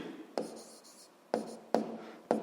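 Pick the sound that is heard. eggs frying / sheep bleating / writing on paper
writing on paper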